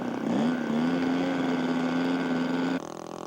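Scale model aircraft engine at an air show rises in pitch and then drones steadily as the plane taxis out, fairly loud and close, before dropping off abruptly near the end.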